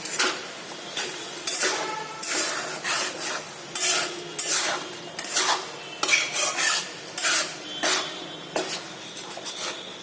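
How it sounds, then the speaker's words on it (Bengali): A spoon scrapes and clatters around a pan as a lemon butter sauce with a splash of water is mixed, producing repeated close metallic strokes in an uneven rhythm, with no talking. "সবকিছু এবার খুব ভালো করে মিশিয়ে নিচ্ছি।"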